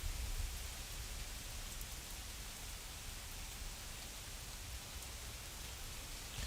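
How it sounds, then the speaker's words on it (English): Rain falling outside as a storm cell arrives, a dense, even hiss of drops on surfaces that stays steady and close throughout. "can you hear the rain?"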